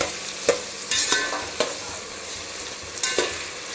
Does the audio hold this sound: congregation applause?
no